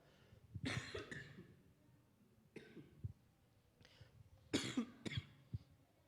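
A person with a cold coughs several times in separate bursts during a church sermon, a couple of harsh coughs followed by more, close to the listener with quiet pauses between.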